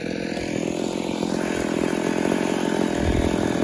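An old ported Mac 850 chainsaw with a long bar rips through big 24-inch fir wood, a loud, close, continuous snarl that climbs in pitch and keeps biting without letting up.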